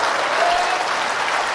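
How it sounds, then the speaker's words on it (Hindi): A large devotional gathering applauds at a live Hindu religious darbar, steady dense clapping filling the whole moment without a break, loud and close, with no voices standing out above it. "एक बार ताली तो बजा दीजिए, हाथ उठा के"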